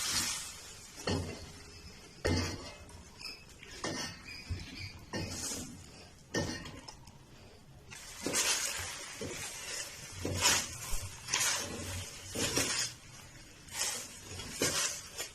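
Fried chicken wings, Korean style, are tossed and stirred in a pan, making repeated clinks and scrapes of a utensil against metal with an uneven rhythm, close up and with no talking.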